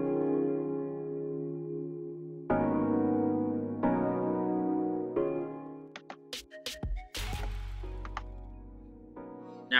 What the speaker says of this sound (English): this is the main chord progression here